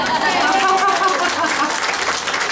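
Applause from a church congregation, a steady wash of clapping that fills the space, with some voices and musical tones underneath.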